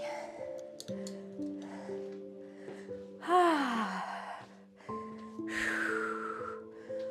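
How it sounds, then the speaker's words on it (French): A deep breath drawn in and then let out during a HIIT workout, with two breathy rushes of air a couple of seconds apart, audible over steady background music. "Prends une grande inspiration, hop. Et expire."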